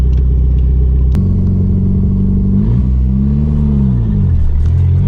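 A Chrysler Conquest's turbocharged engine idles while warming up, a loud, close, steady rumbling drone whose pitch wavers and dips slightly as the revs rise and settle.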